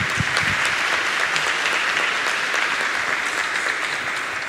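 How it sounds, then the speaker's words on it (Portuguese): An audience at a show honoring the MARGS art museum in Rio Grande do Sul claps for the museum's friends association, a thick, sustained wash of applause that stays level and steady throughout. "Eu queria pedir uma salva de palmas para a Associação de Amigos."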